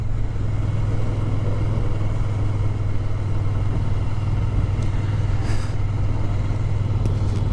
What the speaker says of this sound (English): So I hit a little bit of traffic here.